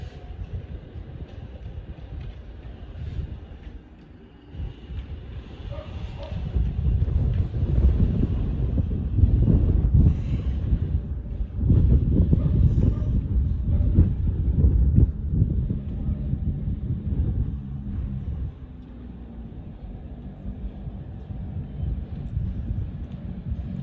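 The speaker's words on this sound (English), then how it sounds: "It won't be long till an Avanti West Coast service to Birmingham New Street passes through here." An Avanti West Coast Class 390 train bound for Birmingham New Street rumbles through, building from a low roar to a loud, sustained rush lasting many seconds, with wind buffeting the microphone throughout.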